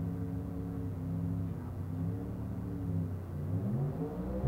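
Rick Pope's Pinto street car idles and revs at Cordova Dragway, a steady mid-pitched engine rumble with rising and falling revs, moderately loud and close, with no talk over it.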